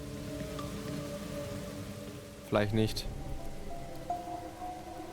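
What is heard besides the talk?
rain in video game Master Detective Archives: Rain Code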